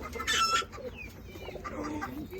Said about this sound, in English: It's an actual chicken.